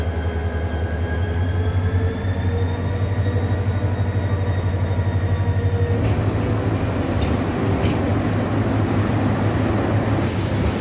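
A passenger train departing for Chittagong rumbles and clatters steadily nearby, a continuous low roar with a sharp rise in rattling and screeching partway through as it pulls away.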